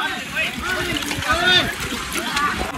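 Someone jumps into a swimming pool, and water splashes and churns close by in choppy, irregular bursts while voices are heard over it.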